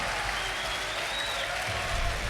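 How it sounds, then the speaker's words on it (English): Crowd applauding and cheering in an arena at a Rainbow Six Siege esports semi-final between XSET and Rogue at the Six Berlin Major, a steady dense wash of clapping and roar throughout, swelling slightly toward the end. "the crowd was loud after the first round"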